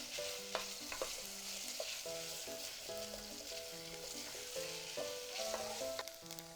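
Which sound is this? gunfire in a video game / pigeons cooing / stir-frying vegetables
stir-frying vegetables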